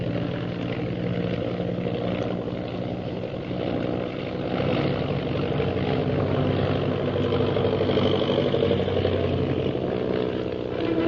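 A steady, droning propeller engine hums continuously at an even level, low and full, with no voices.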